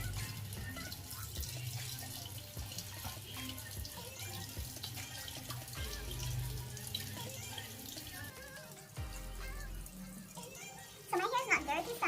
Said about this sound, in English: I'm going to wash my hair with the egg protein shampoo.